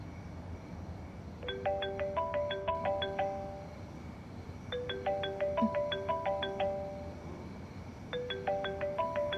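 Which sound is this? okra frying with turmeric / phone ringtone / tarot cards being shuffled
phone ringtone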